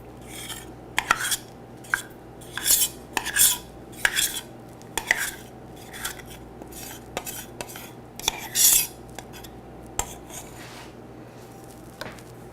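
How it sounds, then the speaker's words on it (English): A utensil scrapes and clinks against a bowl while ingredients are mixed, in a steady series of nearby strokes with short pauses, alone in a kitchen. "I'm just going to mix it up just a touch."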